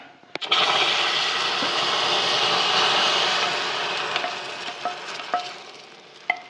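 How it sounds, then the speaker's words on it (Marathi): Hot sugar caramel poured into kheer, for sheer khurma, gives off a loud, steady sizzling hiss that slowly fades over several seconds, with a few small clinks and taps near the end. "आता हे आपण जे साखरेचं कॅरेमल केलेलं आहे ते आपण आपल्या खिरीत घालणार आहे"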